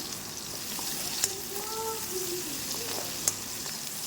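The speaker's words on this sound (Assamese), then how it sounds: "এতিয়া ধুনীয়াকৈ পিঁয়াজখিনি ভাজি ল'ম।" Sliced onion fries quietly in hot oil with fenugreek seeds and four green chillies, a soft, even sizzle with faint stirring scrapes and two sharp clicks of a utensil against the pan.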